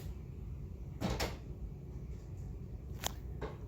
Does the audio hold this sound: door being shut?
yes